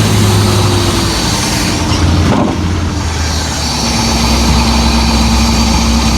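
A free old boat's engine with a four-barrel carburetor runs loud and close with a steady rough drone, dipping briefly near the middle before settling back to a constant roar.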